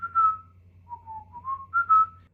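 A person whistles a short, wavering tune of several sliding notes, close and clear against a quiet low hum.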